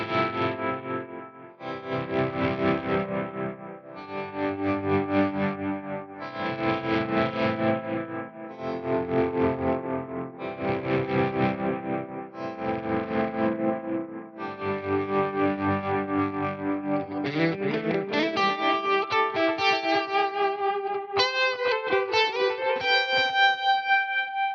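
Electric guitar notes, played through an AX8 unit, swell up slowly one after another, each trailing into repeating stereo delay echoes, ending in a shimmering ambient wash of overlapping tones.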